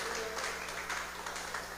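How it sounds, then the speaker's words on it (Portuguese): Church congregation applauding during a service, a steady wash of many hands clapping with a faint underlying hum, no clear individual claps standing out. "Aplaude Jesus"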